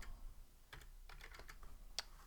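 Soft clicking of keys on a Bluetooth computer keyboard, a brief irregular burst of typing heard close up against quiet room noise.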